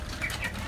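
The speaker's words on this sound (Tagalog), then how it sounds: "Kalapati nila." Pigeons on a farm, faint bird chirps and soft fluttering over a low background rumble, brief and fairly close.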